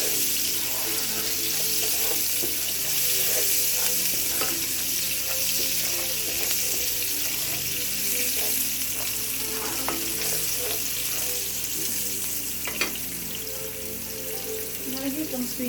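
Sliced, salted onions sizzle steadily as they fry in a pot, with a continuous close crackle and occasional scraping stirs running through the whole stretch.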